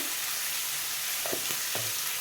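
Potato pieces frying in a pan with salt: a loud, constant close-up sizzle, with a couple of brief stirring clinks near the end and no voices.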